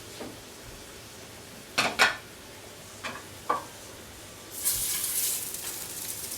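A fish goes into a hot pan of extra virgin olive oil in a seafood restaurant kitchen, with a few sharp clinks of metal before a soft sizzle rises and holds, and no talk.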